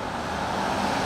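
A Ferrari SF90's engine roars steadily nearby in Monaco over a wash of road noise, building slightly as it approaches fast.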